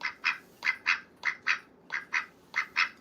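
A pet duck named Olivia Gray gives repeated double quacks, five pairs spaced evenly, near and clear against a quiet background without any talking.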